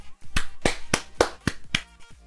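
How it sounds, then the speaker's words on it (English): Six sharp, evenly spaced claps ring out one after another as a sound effect, crisp and close with brief silence between each. "I want to give you some claps there."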